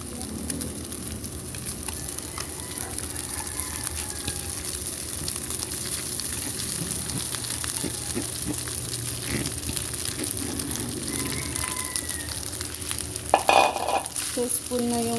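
Rice frying in bacon fat with garlic, stirred with a spoon, giving a long steady sizzle broken by repeated scraping stirs and a louder clatter toward the end, close and without speech.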